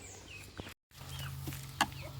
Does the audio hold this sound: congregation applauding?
no